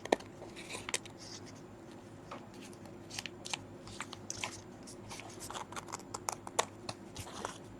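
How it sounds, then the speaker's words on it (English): Scissors cut through lace during a sewing and embellishing craft session, making repeated close, soft snips and crisp crunchy clicks in an irregular rhythm over a faint background hum. "My scissors, I think, could use some sharpening."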